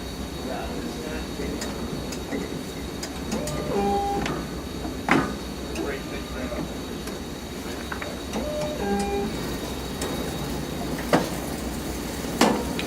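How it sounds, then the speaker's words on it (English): A Standard Horizon BQ-160 perfect binder runs its automatic cycle with roughening switched off, a steady mechanical hum and whir punctuated by periodic clunks, clicks and sliding thumps from the moving clamp and carriage. "You can tell by the sound that the roughening was automatically turned off, and it's an automatic cycle."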